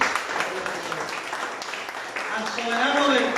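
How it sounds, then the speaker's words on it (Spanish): A church congregation breaks into applause for the Lord during an evening service, a dense sustained clapping that swells toward the end, with a preacher's voice speaking over it. "¿Le puede dar un aplauso al Señor en esta noche?"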